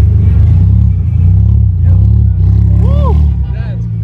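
Car engine revving at a car show, a loud, deep, steady rumble close by that swells and eases across the moment while excited people talk and exclaim over it.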